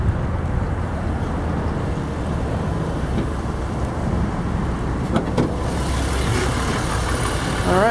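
A 3.5-liter VTEC V6 in a 2004 Honda Pilot EX 4x4 idles under the open hood, a steady close engine drone with a faint extra noise near the end.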